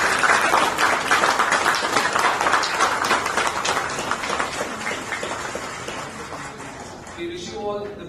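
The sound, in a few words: round of applause at ceremony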